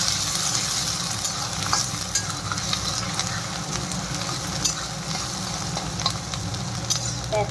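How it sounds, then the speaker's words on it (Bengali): Onions fry in a pan until reddish for a masala shell pasta, a continuous crackling sizzle with repeated stirring scrapes and light clinks throughout, fairly close and with no voices. "এই যে লাল লাল করে পেঁয়াজটা একটু ভেজে নিই।"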